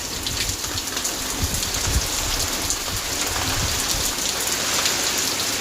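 Steady heavy rain pours down with a dense hiss, close and constant, with no voices.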